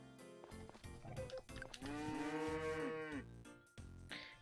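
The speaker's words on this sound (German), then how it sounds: "Dann fangen wir mit den Schwarz-Weiß-Kühen an." Black-and-white cows in the farming video game Story of Seasons: Friends of Mineraltown let out a long, drawn-out moo mid-clip, with shorter game sounds before and after.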